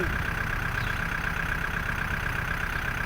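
A tractor stuck in mud idles steadily and close by, its low engine chugging evenly the whole time, with no voices.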